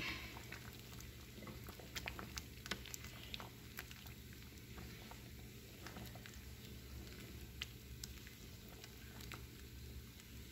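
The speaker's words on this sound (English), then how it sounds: "Okay, my beans have been boiling" Steady bubbling and soft popping of a pot of red beans boiling on the stove, a continuous low burble with faint crackles, no voices.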